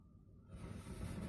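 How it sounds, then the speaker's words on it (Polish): Fluctuating hiss from the speakers of a faulty Radmor 5102TE receiver with an unstable varicap tuning voltage, a faint broadband rush that swells and shifts, growing louder and brighter partway through. "W głośnikach słychać szum zmieniający się."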